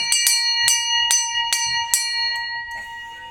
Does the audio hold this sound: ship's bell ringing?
yes